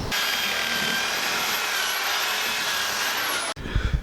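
A tool files the bottom bolt hole of a coilover mount while a Corsa B coilover is fitted to a K11 Micra, producing a loud, steady, high-pitched grinding whine that runs unbroken for several seconds, then cuts off abruptly.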